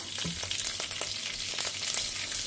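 Dal tempering spits and sizzles in hot oil in a home kitchen for a Tamil lunch, a dense steady crackle with frequent sharp pops, close and without talk.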